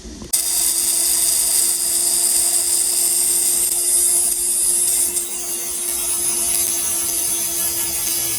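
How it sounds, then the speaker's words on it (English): A small rotary cutting wheel slices off excess bolt threads on an Atlas 6x6 RC truck, giving a loud, continuous high-pitched grinding whine that starts abruptly and holds steady up close for about eight seconds. "we'll just take the little cutting wheel and we'll cut off the extra threads that stick out"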